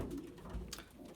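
Pigeons in a home loft with young birds give soft low cooing murmurs, a steady gentle rumble with one brief brighter flutter, fairly quiet and close, no talking.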